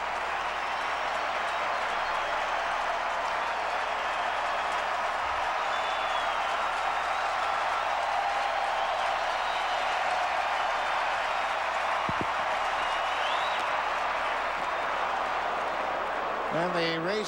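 Huge baseball crowd of over 41,000 at a Minnesota Twins home game against the New York Yankees on Dollar Hot Dog Night, a sustained loud roar of cheering and applause filling the whole stretch without pause.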